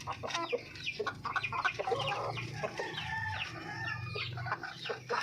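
Several chickens cluck busily up close while being fed fruit and vegetables, overlapping clucks and squawks with a low background hum and no talking.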